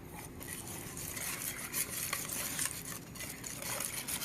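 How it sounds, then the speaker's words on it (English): Chicken marinade with lemon zest, chili powder, black pepper, coriander powder and salt being stirred by hand or spoon in a bowl, a soft, steady wet mixing close by, with no talking. "Now I'll mix it good."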